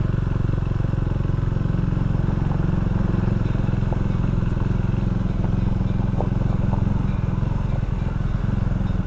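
A Can-Am Ryker Rebel three-wheeler rides a closed rainforest road over sharp stones, its engine droning steadily and close while gravel crunches and clatters beneath the tyres; a brief exclamation is heard.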